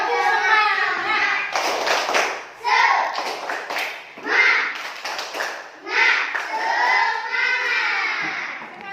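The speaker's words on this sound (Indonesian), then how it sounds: "Tepuk semangat." Schoolchildren in an Indonesian classroom chant and clap the tepuk semangat rhythm, bursts of quick rhythmic clapping alternating with their chanting voices, close and lively.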